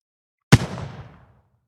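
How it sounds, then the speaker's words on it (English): A single explosion sound effect built for sound design: one sharp, loud blast with a heavy low thump, then a rumbling tail that fades out over about a second, with silence before and after. "So I don't think these explosions are really doing it for me"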